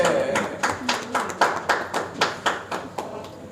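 Crowd at a lawn tennis event function in Hisar claps in a steady, rhythmic unison beat, about three claps per second, moderately loud and close, with little talk over it.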